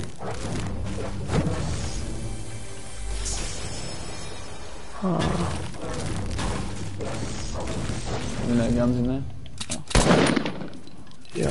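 Gunshots and crashing impacts in Fortnite gameplay ring out in scattered bursts and clatter throughout, with people talking over the action.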